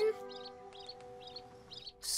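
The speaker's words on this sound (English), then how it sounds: "And there's my favourite, Robin." Robin singing a short run of repeated high, warbling phrases over a steady tonal background hum, ending in a burst of noise.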